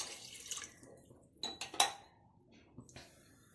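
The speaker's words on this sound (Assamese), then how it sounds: "আৰু এতিয়া পানী দিম" Water is poured into a pressure cooker for egg biryani, heard as a few short splashing bursts with a light metallic clatter of the pot in an otherwise quiet kitchen.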